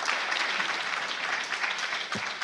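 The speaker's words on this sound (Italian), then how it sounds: "vorrei dedicare un applauso ad Angelo Mancini" A crowd at a national youth party assembly in Bologna applauds their interim president Angelo Mancini, a steady, full round of clapping sustained throughout.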